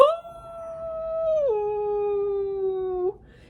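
A storyteller's voice imitates a dog's long, aching howl, a sustained mournful tone that holds, drops in pitch midway, then cuts off, close and clear with no other sound.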